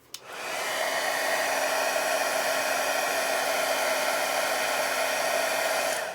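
A heat gun blows steadily while embossing glaze is melted onto a butterfly card. The whirring hiss is loud and close, starts right away and holds even for about six seconds before cutting off.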